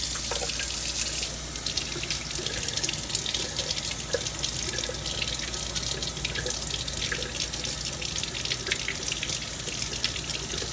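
Tap water runs steadily into a jar of broccoli sprouts to rinse them, a close, continuous gushing splash of faucet water that holds for about ten seconds with no voices.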